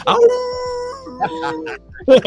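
A man imitates a howl with his voice, a sustained wavering tone that rises and falls for over a second, followed by more vocal sounds.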